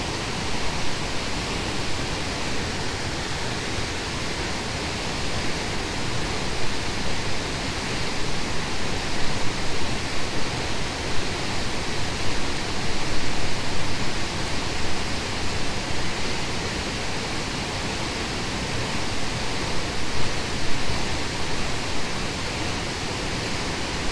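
Panther Creek Falls roaring close by, a loud, unbroken broadband rush of falling water that stays steady for the whole stretch, with no talking.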